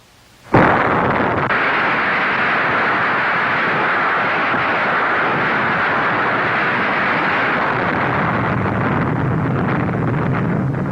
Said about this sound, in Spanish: se hizo estallar la primera bomba de hidrógeno